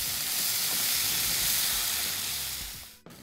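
A pan of water chestnuts and mushrooms with oyster sauce and soy sauce hisses and sizzles steadily as the stir-fry is mixed, a dense continuous frying hiss that fades near the end, then a brief clink.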